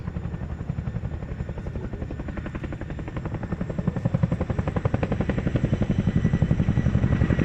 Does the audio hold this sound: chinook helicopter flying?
yes